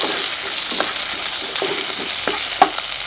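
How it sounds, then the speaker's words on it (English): Crushed cloves and cinnamon fry in hot oil, a continuous bright sizzle with light stirring scrapes and one sharper clink near the end. "Put that into the oil and fry a little."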